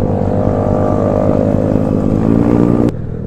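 A Honda BeAT scooter bored up to 130cc revs hard and holds a loud, droning engine note close by, its pitch creeping upward, then the throttle drops off abruptly near the end.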